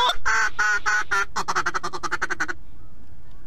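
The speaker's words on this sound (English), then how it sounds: "Birds up over Roy's" Ducks quacking over a pond, a loud rapid run of harsh calls at first, then a quicker rhythmic series of quacks that stops abruptly, leaving quiet outdoor background.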